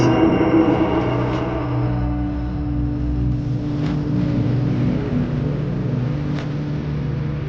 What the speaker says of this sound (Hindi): उसने बाइक फुल स्पीड में डाल दी।